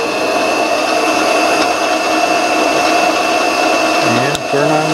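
A mini lathe set up with a tool post grinder for grinding dead centers runs with a steady, loud motor whir and a high constant whine, holding even throughout.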